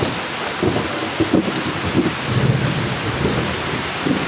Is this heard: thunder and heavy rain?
yes